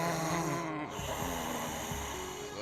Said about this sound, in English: Looks like he's snoring.